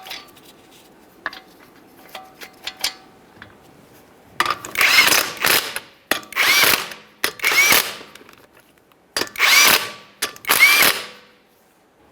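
Power tool spinning down 19mm lug nuts on a Ford Fusion wheel, delivered in five loud, separate bursts after quieter clicks and handling noise, with no talk.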